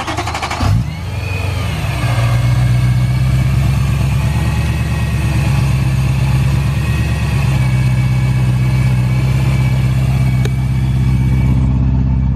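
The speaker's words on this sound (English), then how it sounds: "Let's get inside this thing, do a little warm start" A supercharged BMW E92 M3 catches with a short crank and burst at a warm start, then settles into a loud, steady, throbbing idle that holds for over ten seconds, with no talking.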